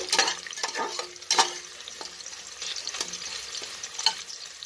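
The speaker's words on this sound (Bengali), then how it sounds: "পেঁয়াজটা ভাজা হয়ে গেল।" Onions frying in a pan with an occasional stir, a soft steady sizzle broken by a few sharper scraping clatters from a spoon against the pan, close and alone without speech.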